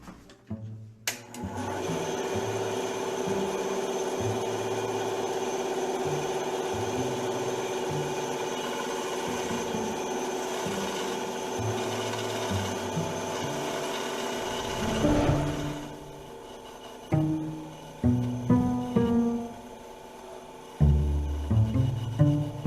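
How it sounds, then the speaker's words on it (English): A bandsaw cuts pieces from thick foam with a steady, close whine that runs for about fifteen seconds, then winds down, followed by scattered knocks and handling sounds. "So let's go to the bandsaw and I'll cut some body pieces."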